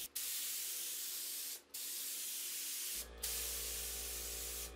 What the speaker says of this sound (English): And when painting the inside of furniture, using a spray gun is so much easier.